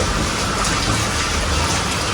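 Heavy monsoon downpour in a rural Gujarati setting, a steady, loud, broadband hiss of rain pounding surfaces continuously throughout, with no talking.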